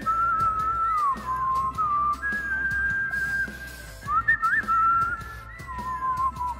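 A person whistles a melodic tune alone, a clear steady line with sliding pitches and short pauses, close and fairly loud.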